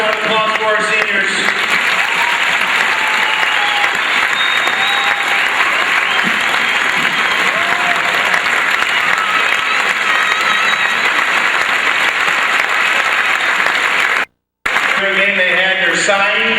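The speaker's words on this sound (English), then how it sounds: "nice round of applause for our seniors" Sustained applause from a large crowd at a community banquet honoring seniors, steady and loud for most of the stretch, with a brief drop-out near the end before clapping resumes.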